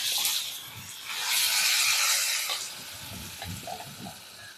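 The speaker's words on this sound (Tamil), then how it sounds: "பூண்டு இஞ்சியும் நல்லா எண்ணெயிலே நல்லா வெந்துருச்சுங்க." Garlic and ginger frying in oil for a Kerala raw-mango chammanthi: a close, bubbling sizzle swells and fades, with soft stirring scrapes and small crackles toward the end.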